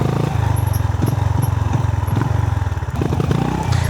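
A 2025 Honda GB 350S single-cylinder motorcycle runs close by off-road, its engine thumping in a steady loud low pulse with mechanical clatter and no voices.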